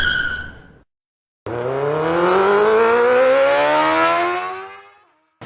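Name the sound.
Triumph Trident 660 with Zard full exhaust on dyno run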